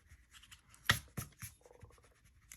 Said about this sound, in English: I'm going to go ahead and erase the guidelines here